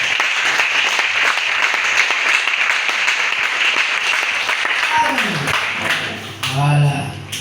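A church congregation applauding the Lord during a sermon, with a dense wash of clapping and some voices, fading toward the end as a pastor speaks.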